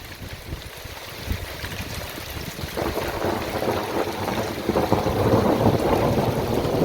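Thunder rolls almost without pause during a heavy storm over a back garden, a low continuous rumble that swells louder partway through, with rain hiss underneath and no voices.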